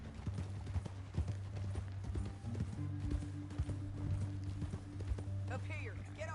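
Horse hooves clip-clop at a steady trot in the video game Red Dead Redemption 2, set against a low sustained musical drone with a brief whinny-like sound near the end.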